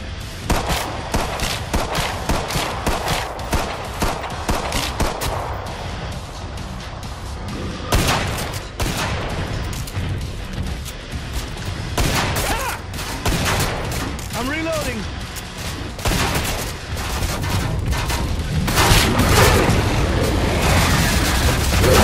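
Rapid, dense gunfire in Killing Floor 2 on the custom BioLab 2009 map, with loud sustained bursts and heavy booming shots close up. Weapon mechanism clatter and game effects fill the gaps.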